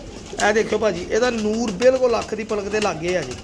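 A pair of pigeons, a male and a female, coo softly in repeated low phrases close by while someone talks over them.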